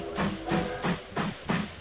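Train running in the Mashinky video game, a steady rolling rhythm of clickety-clack wheel beats with hiss, about four heavy pulses in under two seconds, loud and close, no talk.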